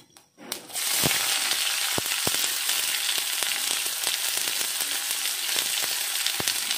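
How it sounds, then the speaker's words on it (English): Onions hit hot oil after tempered fennel seeds with a sudden loud sizzle that settles into steady crackling frying, punctuated by sharp pops and spatters. "After tempering, let's add the onions."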